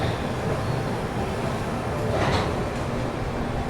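The Rajdhani Express rolls slowly through Yesvantpur Junction, heard as a constant low rumble and broadband rattle with a brief brighter swell partway through.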